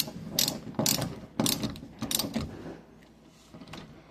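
A cylinder puller is cranked tight on a door lock, giving four or five quick bursts of ratcheting clicks close by, followed by a quieter pause and a final soft click.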